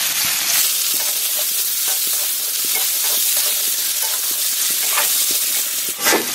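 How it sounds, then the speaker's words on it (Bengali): Potato and pointed gourd pieces sizzle steadily in hot oil in a home kitchen, a loud, continuous crackling hiss with light stirring clicks and a slight swell near the end. "এই তেলের মধ্যে আমি আলু আর পটলটা ভাজা নিব"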